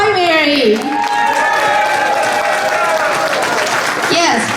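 Round of applause from a crowd at a fundraiser event, a steady wash of clapping running beneath loud voices and cheering calls that rise over it, filling the whole stretch at an even level.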